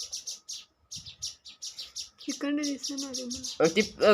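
A sparrow chirps in quick, repeated bright tweets close by, while people talk over the second half.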